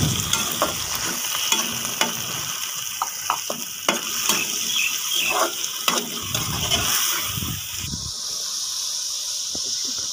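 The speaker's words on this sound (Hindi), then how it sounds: "अब इसके अंदर बोनलेस चिकन डाल देंगे" Boneless chicken pieces frying in a hot pan with green chilies, giving a steady sizzle with scattered stirring clatter and scraping throughout, fairly close and continuous.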